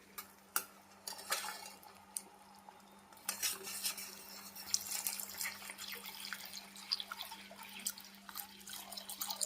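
Spoon scraping and clinking in a pan while Karachi halwa mixture is stirred, quiet irregular taps and soft wet stirring noises close by, with a faint steady hum underneath.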